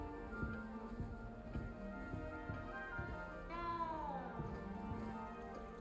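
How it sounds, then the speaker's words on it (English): A cat meows in the video game Hogwarts Legacy, several clear, drawn-out mews rising and falling over steady background game music and footsteps, fairly close and moderately loud. "I hear a kitty."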